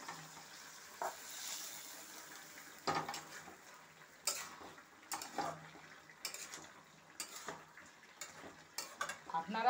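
Lightly fried small live-caught fish tipped into kohlrabi and stirred, quiet sizzling with irregular clinks and scrapes of a utensil against the pan.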